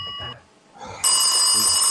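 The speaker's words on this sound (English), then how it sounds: "somebody really ought to answer that phone" A telephone ringing loud and close, a bright electronic ring that cuts off, pauses briefly, then starts again and holds steady.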